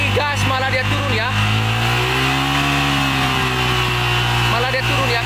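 A Yamaha Vixion motorcycle with a fault code is throttled, and its close, loud engine note wavers and dips instead of climbing, with a buzzy idle continuing throughout.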